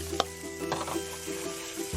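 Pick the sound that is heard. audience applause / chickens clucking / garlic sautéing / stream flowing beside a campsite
garlic sautéing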